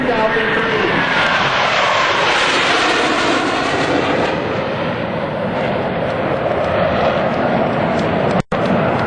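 US Navy Blue Angels jets passing at the 2003 New York International Airshow, a loud, sustained roar of jet engines that swells and shifts pitch as the aircraft sweep past.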